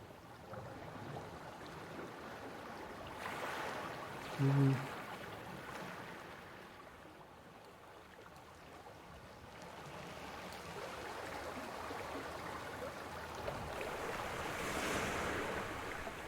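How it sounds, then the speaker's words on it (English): Steady river water ambience for a tabletop Pathfinder game, a continuous wash of flowing water with surf-like swells and wind noise, moderately loud and close, with a brief tonal blip in the middle and no speech. "The river plays a bit louder here because you're very close to the water."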